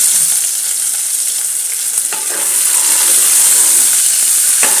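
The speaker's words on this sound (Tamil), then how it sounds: "கொஞ்சம் சீரகம் தாளிச்சிட்டு இந்த வெங்காயம் சேர்த்து வதக்கணும்" Onions sautéing in hot oil with tempered cumin seeds give a loud, steady, close frying sizzle, with a few soft stirring scrapes partway through and no talking.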